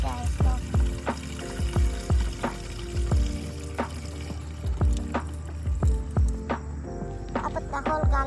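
Windshield washer fluid glugs steadily from a gallon jug into a Mercedes reservoir, with rhythmic gurgling pulses repeating about every half second, close and moderately loud.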